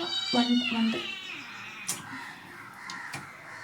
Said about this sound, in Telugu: పక్క నుంచి కాకులు, పక్క నుంచి మా పిల్లి